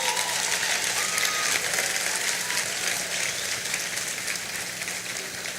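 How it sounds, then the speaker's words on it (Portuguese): Sustained applause from a church congregation fills the room, dense steady clapping that fades slightly toward the end, with a low hum underneath and no talk. "dá uma salva de palmas para essa galera"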